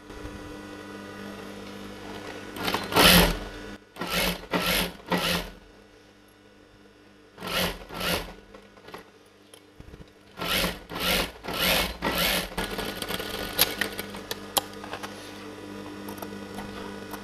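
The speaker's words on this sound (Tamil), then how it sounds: "இப்போ ராங் சைடில் வந்து இதை வச்சு நான் ஸ்டிச் பண்ண போகிறேன்." A sewing machine stitches a blouse lining on the wrong side, running in short motor bursts of a second or so, separated by pauses, with soft handling noises of the fabric in between.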